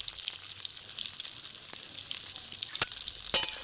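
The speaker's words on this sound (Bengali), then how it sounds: "এইবার এটাকে এই রকমভাবে নাড়তে থাকবো।" Mango pickle with turmeric, chili powder and salt being stirred in a hot pan: a constant bright sizzle with faint scraping, then a few sharp spoon clacks against the pan toward the end.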